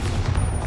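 A Bombarda spell blast in Hogwarts Legacy, a brief loud booming explosion filling the whole moment with dense crackling rumble and no voice over it.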